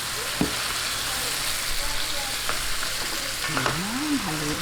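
Chicken stirred into softened tomatoes, frying with a steady close sizzle, a few spoon scrapes and knocks, and a brief tonal squeak near the end.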